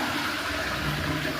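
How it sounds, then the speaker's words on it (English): Water running from a shower in a washroom, a steady, moderately quiet rushing flow with a faint low hum, unbroken and without speech. "That is the water flowing."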